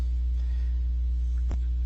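Air conditioner unit of an underground shelter humming, a steady low electrical drone with a brief click partway through, heard alone.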